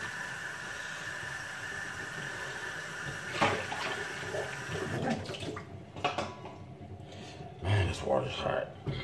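Hot water runs steadily from a kitchen tap as dishes are washed, a constant hiss with clinks and splashes rising partway through, and someone talks faintly over it.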